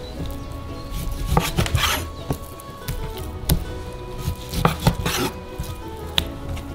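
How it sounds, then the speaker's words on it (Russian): A knife cuts beef and pork into smaller pieces on a board, giving irregular sharp thuds and clicks, some in quick pairs, close and fairly loud over a steady background hum, with no talking. "И нарезаем все мясо на куски поменьше."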